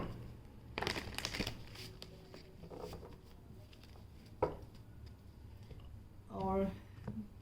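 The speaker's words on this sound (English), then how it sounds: "Now I will pull some cards from Archangel Michael." Oracle cards pulled from a mixed Archangel Michael deck, with soft papery slides, crinkles and taps in scattered bursts, close and quiet against a faint room background.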